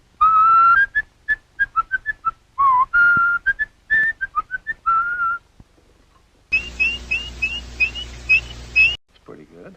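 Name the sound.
mechanical robin from Mary Poppins whistling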